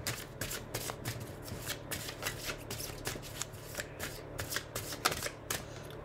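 Oracle cards are shuffled by hand, a quick series of soft crisp riffling flutters repeating in close succession, quiet and near.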